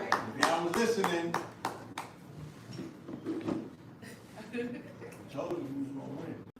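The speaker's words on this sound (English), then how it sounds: "Clap it up on Zoom." Scattered clapping from several people on a Zoom video call, uneven bursts of claps mixed with ongoing talk and overlapping voices throughout.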